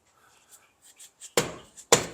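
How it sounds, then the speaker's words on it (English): Two sharp metallic hammer blows on a stuck part of a 1985 Volkswagen Cabriolet that sat for ten years, loud and close, each ringing briefly, preceded by faint small taps and shuffling. "See if we can hit it with a hammer."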